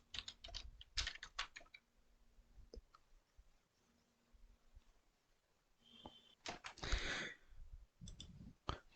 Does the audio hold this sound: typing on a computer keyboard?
yes